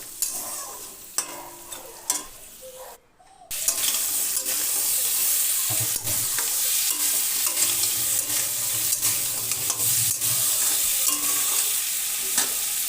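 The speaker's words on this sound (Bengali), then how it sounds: "এবার এতে দিয়ে দেব সামান্য লবণ ও সামান্য হলুদ, দিয়ে ভালো করে নেড়ে চেড়ে কাঁকড়াগুলো" Crabs frying in a pan with a little salt and turmeric, a loud continuous sizzle close up, with scraping stirring strokes repeating throughout after a brief quieter start and a short gap.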